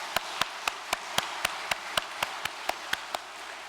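An audience at a Korean religious ceremony claps in steady unison, sharp, evenly spaced beats about four per second, crisp and alone with no talk over them.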